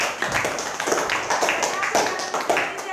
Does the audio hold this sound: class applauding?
yes